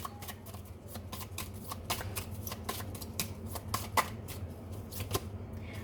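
Tarot cards are shuffled and drawn from a deck in a quiet room, giving a quick run of soft papery flicks and taps that stays faint and close.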